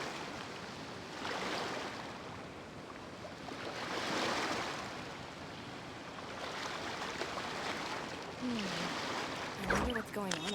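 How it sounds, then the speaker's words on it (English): Calm ocean waves in Genshin Impact roll in and recede in slow, regular surges about every three seconds, soft and distant, with a brief chirping effect near the end. "Waves are as calm as always."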